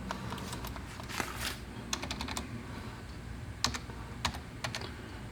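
Keys on a mass flow controller keypad are pressed in short irregular sequences of clicks and taps over steady low background hum, with no talking.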